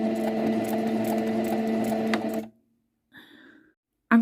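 A sewing machine runs fast and steadily through tartan fabric for about two seconds, then stops abruptly, followed by a brief quiet mechanical shuffle and a short clunk at the end.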